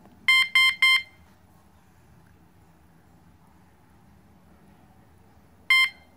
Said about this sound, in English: Now it counts down to 5, 4, 3, 2, 1, and it gives you a beep.